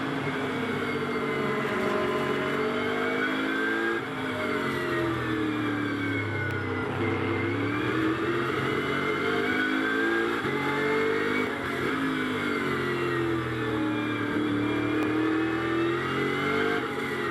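BMW GT race cars circle the Moscow circuit in free practice, engines droning and revving continuously with rising and falling pitch as they pass and shift gears, fairly loud and unbroken.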